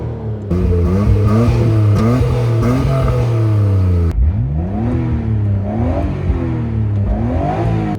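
A rare Nissan GT-R V-Spec N1 R34 engine revs hard from inside the car, loud and close, climbing in pitch, dropping, then climbing again through repeated sweeps with gritty mechanical clatter underneath.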